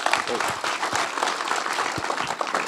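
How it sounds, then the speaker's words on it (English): Audience applause at an entrepreneurship talk in Minnesota, a dense steady wash of clapping filling the short stretch, fairly close and even, with no voices standing out. "Clap it up"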